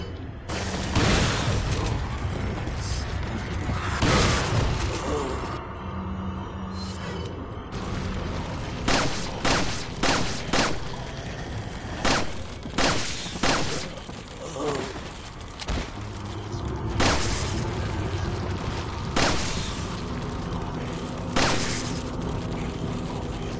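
Rapid bursts of Resident Evil 4 remake gunfire and booming impacts, loud and repeated, with mechanical clatter and a voice talking over the action.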